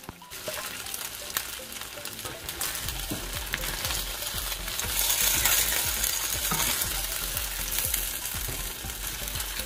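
Beef stir-fried with vegetables in a pan for sizzling beef pepper steak, a steady close sizzle with repeated scraping stirs that grows slightly louder partway through, with no talking.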